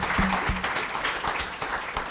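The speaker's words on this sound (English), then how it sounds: "let's give a round of applause to thank" Audience applause at a food-industry conference, an even wash of clapping from a seated crowd at moderate distance, with a couple of sharper nearby claps near the start and light chatter beneath.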